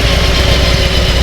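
A Harley-Davidson Sportster motorcycle engine idles steadily and loud, a continuous low rumble with a broad mechanical hiss over it and no voices.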